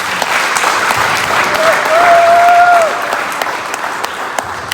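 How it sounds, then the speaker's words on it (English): Audience applause for TJ at an athlete scholastic and scholarship awards ceremony, a dense steady wash of clapping throughout with a brief whistle near the middle. "Please give TJ a round of applause."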